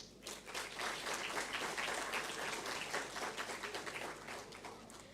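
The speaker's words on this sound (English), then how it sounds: "Let us give a round of applause for the Maldivian dancers" Fairly distant but steady crowd applause in a summit hall after a Maldivian dance performance, many hands clapping in a continuous wash that swells quickly and holds evenly.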